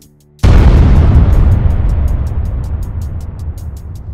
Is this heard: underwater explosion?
yes